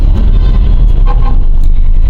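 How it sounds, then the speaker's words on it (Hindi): Road traffic on a highway in fog, with loud, close vehicle engines and tire rumble in a continuous dense roar and no talk. "जहाँ चल रही है गाड़ियां हाईवे पर"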